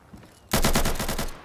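Gunfire in the video game Insurgency erupts suddenly in a rapid automatic burst of about a dozen shots, loud and close, after a quiet start.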